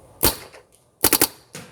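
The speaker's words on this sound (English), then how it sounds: "I'm gonna be shooting at that little filing cabinet with that yellow mat." An HK Army TFX3 paintball marker fires at a filing cabinet in sharp, popping shots: a single report, then a fast burst of three, then one more, loud and close.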